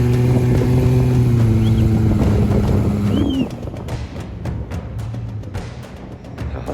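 A 4.8-litre Datsun engine revving hard while towing a bogged Amarok out of sand, loud and close, with a rising sustained drone that drops off midway into rougher rumbling and clatter.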